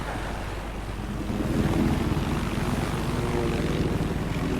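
Continuous low, throbbing rotor drone of a helicopter in a video game, loud and steady, with a slight rise partway through.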